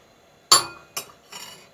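A metal spoon clinks against a hot glass dish while custard is served, three sharp close taps, the first loudest, each fading quickly.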